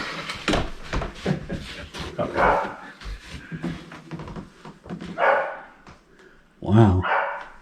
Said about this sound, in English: That's the neighbor's dog out there barking.